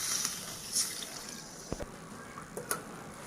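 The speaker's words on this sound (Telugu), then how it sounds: "ఇందులోనే కాస్త వాటర్ కూడా వేసుకుందామండి" Water is poured into a pan of simmering fish curry, a short close splash and trickle among faint bubbling and a few light drips, quiet and without talk.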